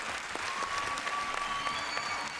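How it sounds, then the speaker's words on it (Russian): A standing audience applauds after a dance performance, dense continuous clapping filling the room at steady loudness, with a faint whistle or cheer threading through. "Все стоя аплодируют."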